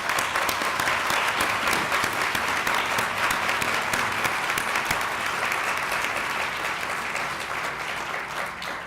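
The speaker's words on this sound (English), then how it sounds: "So a round of applause for all these professionals." A large audience claps steadily at an outdoor groundbreaking ceremony for a medical innovation center, dense sustained applause that slowly thins toward the end.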